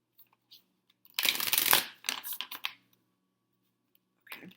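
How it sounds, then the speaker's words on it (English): Starseed Oracle cards being shuffled by hand, a soft close riffling burst lasting about a second, followed by a few shorter rustling shuffles and quiet gaps. "I'm shuffling the Starseed Oracle to see what messages they have for my Geminis for this month."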